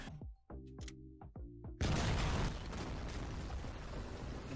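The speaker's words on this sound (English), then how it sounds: "each time I get flashbang" A flashbang grenade goes off in a RoboCop video game: a sudden loud burst of broadband noise that hangs as a sustained ringing hiss, following a few sharp game clicks and thumps.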